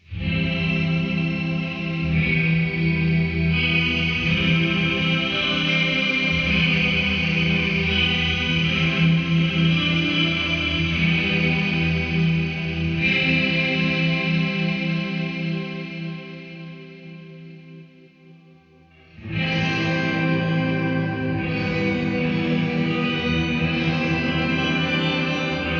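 Guitar through a Zoom MS-50G shimmer reverb set to imitate the shine mode of a Supernatural pedal: sustained chords bloom into a lush, chorused wash of high octave shimmer, fade almost to silence, then swell back in loudly.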